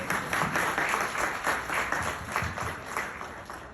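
Steady audience applause fills a restaurant hall during an evening of Sufi poetry, continuous dense clapping throughout with no pauses.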